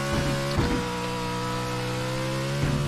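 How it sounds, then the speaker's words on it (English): A small RC car engine, a Pro4 class car, screams at very high revs, a steady buzzing whine with a couple of brief revving bursts near the start and end. "it's just me over revving the crap out of it"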